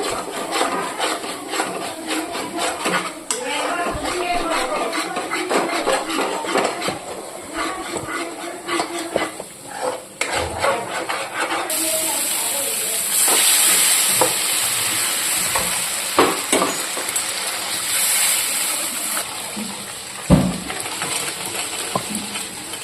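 Chickpeas and potatoes fry with spices in a pan as a continuous sizzle, broken by repeated scraping and knocking of a stirring spoon. It is close and steady, with almost no talk.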